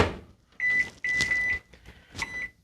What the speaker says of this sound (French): je fais préchauffer mon micro-grill pendant 3 minutes